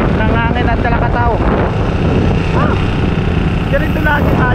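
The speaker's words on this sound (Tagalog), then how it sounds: "sobrang lakas ng hangin" Strong wind buffets a boat at sea in darkness, roaring steadily and loudly across the microphone, with a voice talking throughout over the gusts.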